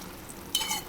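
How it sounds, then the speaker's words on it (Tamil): A tamarind rice mixture for temple-style puliyodharai bubbles in a pan, a soft hissing simmer that swells into a brief, brighter burst of sizzling near the end. "இது நல்லா கொதிக்க ஆரம்பிக்குது பாருங்கள்."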